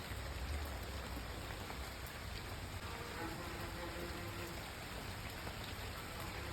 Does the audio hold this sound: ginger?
no